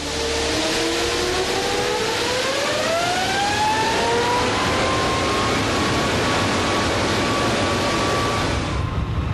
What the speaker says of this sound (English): at last, the throttles are opened and the engine brought to its full,